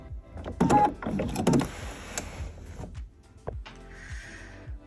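A sewing machine makes a couple of short back stitches on a fabric tree skirt with bias-taped edges, giving brief close mechanical whirring bursts and faint clicks.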